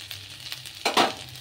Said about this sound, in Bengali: হালকা করে এটা একটু ভেজে নেব